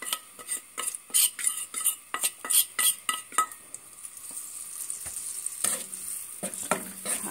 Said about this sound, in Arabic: هقلب بقى كده.